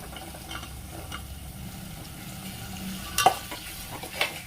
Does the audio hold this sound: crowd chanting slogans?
no